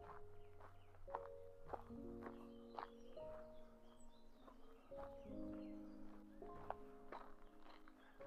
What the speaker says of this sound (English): Yeah, this horse is there.